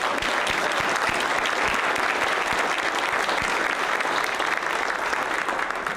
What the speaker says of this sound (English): let's give a special thanks and round of applause to our accompanist, Ruben Piran